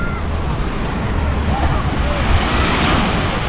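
Ocean waves wash onto a Bahamas beach in a continuous loud roar of surf, with wind buffeting the microphone throughout and no break in the rushing water.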